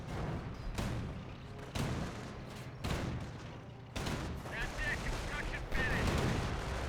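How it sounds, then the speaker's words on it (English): An M2 machine gun fires during a Company of Heroes battle, heard as repeated sharp bursts of gunfire with booming impacts under steady battlefield noise and a commentator's voice. "M2 running on it, but may cause some friendly fire damage"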